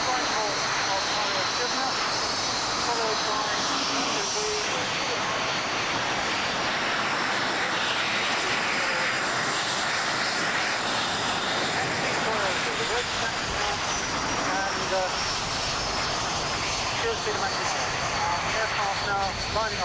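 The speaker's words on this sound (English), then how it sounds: "The Chivenor strike aircraft will be getting airborne." Military strike jets at the 1989 RAF Chivenor airshow roar continuously, a loud sustained engine drone with public-address commentary under it.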